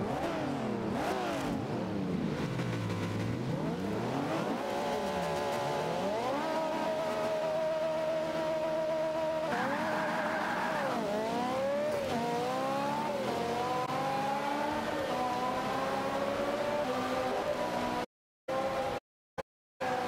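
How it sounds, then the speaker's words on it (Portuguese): A Ferrari race car in Forza Motorsport 5 revs hard and keeps shifting gears, its engine pitch climbing and dropping again and again, loud and close, with no talk and a few brief cutouts near the end. "Vamos lá, minha Ferrari aqui"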